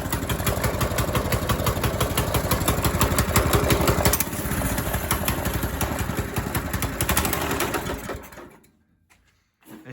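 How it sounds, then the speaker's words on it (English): KartUSA Road Rocket go-kart engine running rough with a misfire, a close, loud, uneven rapid chugging idle that holds for about eight seconds before cutting out into near silence. "This motor might need a little tune-up or something because it's running a little rough."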